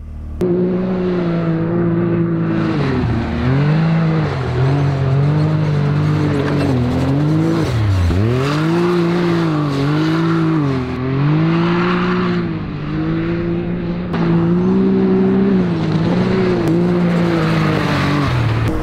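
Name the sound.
Can-Am X3 Turbo buggy driving in Dubai desert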